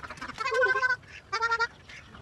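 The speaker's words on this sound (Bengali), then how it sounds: "দেখো আরে হাঁস আছে" Ducks in a park give two loud nasal honking calls, close by, separated by a short pause, with faint background noise.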